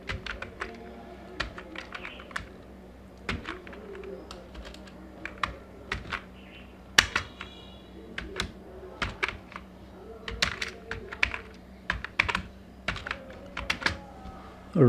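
Typing on a computer keyboard while lettering a company pad design in Photoshop, with close, irregular clusters of key clacks and occasional louder strikes over a quiet room.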